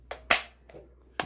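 A toy rifle fires several sharp, dry snaps in quick irregular succession, close and fairly loud, with a strong crack among them.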